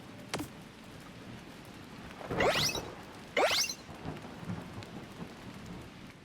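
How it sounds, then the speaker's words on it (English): Rain patters steadily on a roof in a Donkey Kong Bananza stormy stage, with two loud thunder cracks or gusty swooshes rising above the downpour, and no talking. "I love the sound the rain makes when it's falling on the roof."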